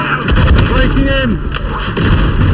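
Mortar fire in a WW1 Gallipoli battle video game, loud repeated booming thuds and blasts in heavy combat noise, with voices shouting over it.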